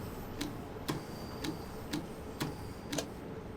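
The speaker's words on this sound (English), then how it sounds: "It's a one-speed wiper, look." A single-speed windscreen wiper on a London suburban electric train in Train Sim World 2 sweeps back and forth, giving six evenly spaced soft thumps about half a second apart over a low cab hum.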